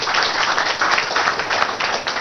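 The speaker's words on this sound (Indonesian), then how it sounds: "Ini Bu Eli, tepuk tangannya." Studio audience applause for Bu Eli on a talk show about child sexual abuse, a steady, dense wash of clapping that fills the whole stretch at an even, fairly loud level.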